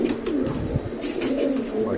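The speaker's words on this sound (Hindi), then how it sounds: "कबूतर अच्छे लाजवाब कबूतर, बढ़िया कबूतर है" Panjabi Madrasi pigeons coo repeatedly in soft rolling calls, close by, over a steady background hiss with faint rustling.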